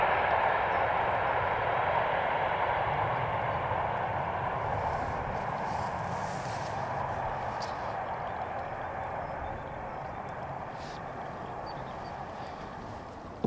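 An airliner rolling fast down runway 18R at Amsterdam Schiphol after landing, hardly braking; a steady broad engine roar heard from a distance, slowly fading over the stretch.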